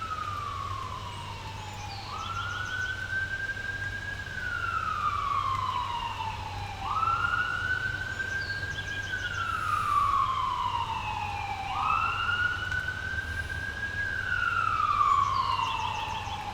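An ambulance siren passes outside, wailing in slow repeated rises and falls, fairly faint and distant under a low background hum.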